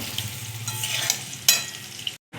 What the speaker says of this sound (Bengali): আলুটা ভাজা হয়ে গেছে লাল লাল করে